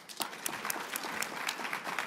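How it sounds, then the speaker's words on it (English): A conference audience at a leadership kick-off session claps for the scholars, with sparse, distinct hand claps in a fairly steady rhythm rather than a full roar, moderately loud and close. "let's give a big round of applause to all of our scholars"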